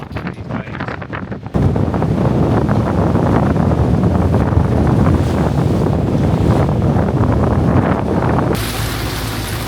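Strong wind roars across the microphone aboard a sailing boat in the Bay of Biscay, with waves crashing and rushing against the hull in wind-against-tide conditions, loud and continuous throughout.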